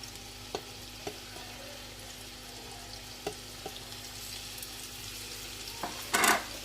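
Chicken bihari boti pieces frying in a pan over a medium flame, a quiet steady sizzle with a few sharp pops and a louder burst of crackling near the end.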